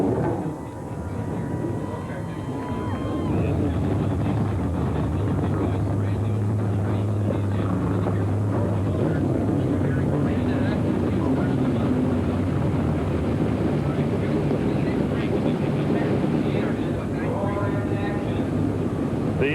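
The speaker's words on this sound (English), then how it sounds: "The engines have fired up" Stock car engines fire up together at Columbus Motor Speedway for an ASA race, a broad sustained rumbling roar that swells after the first seconds and holds steady, with speech mixed in.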